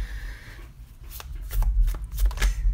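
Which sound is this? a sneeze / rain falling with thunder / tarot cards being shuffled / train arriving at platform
tarot cards being shuffled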